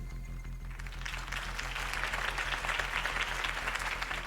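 A crowd applauds after Harvey Dent's campaign speech in the video game Batman: The Telltale Series, a dense, continuous wash of clapping that swells slightly and holds steady.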